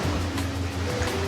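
Crashing tsunami waves in the Roblox game Escape Tsunami, a steady broadband surf roar with low rumbling swells, continuous and fairly loud throughout the short moment.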